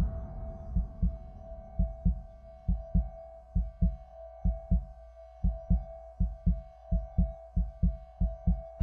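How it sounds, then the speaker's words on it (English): Heartbeat sound effect in the horror video game Until Dawn, a loud, deep, steady double-thump pulse repeating evenly over a low hum, with no voices. "it was like vibrating the controller real hard with the heartbeat"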